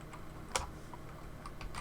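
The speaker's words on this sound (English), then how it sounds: "I'm just gonna type them in chat." Computer keyboard keys tapped as coordinates are entered into a game chat, a few soft clicks with one sharper keystroke in the middle, close and quiet with no talking.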